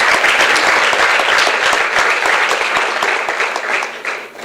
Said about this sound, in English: Can we all have a big, huge round of applause to Mr. Bharat?